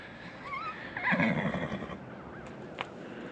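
Gelding horse giving a single clear whinny, fairly close and moderately loud, its quavering call rising and falling over a couple of seconds against quiet outdoor background.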